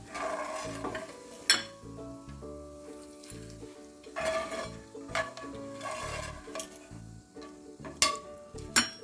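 Roasted gram (pottukadala) being fried in a pan for jackfruit-fibre chips: scraping stirs and clinks of a utensil against the pan over a low background, with a few sharper metallic knocks, no talk.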